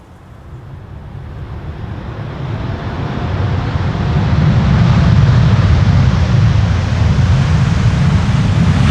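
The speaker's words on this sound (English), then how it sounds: "This is Air Canada flight 900 arriving from Montreal" Air Canada Airbus airliner landing in gusty crosswind at Amsterdam Schiphol, a broad rushing jet roar that swells steadily louder and stays heavy and close, with no talking.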